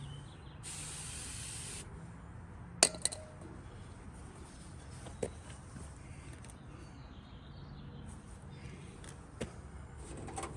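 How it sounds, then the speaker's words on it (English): Cleaner sprayed onto an outdoor solar porch light with a candle-style flickering lamp: one short, close hiss of spray, then a few light clinks and handling taps against a quiet background. "Give it a spray in here."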